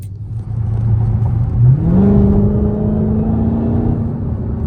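A straight-piped Dodge Challenger Hellcat Widebody drives with a loud, close engine drone that climbs in pitch partway through, then holds a steady revving roar.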